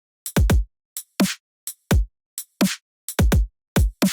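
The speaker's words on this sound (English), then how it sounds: "for the drums, they sound like this" Halftime drums in a heavy triplet groove at 170 BPM: deep punchy kicks and a sharp, bright snare hit land in a sparse, swung pattern with gaps of silence, alone and loud.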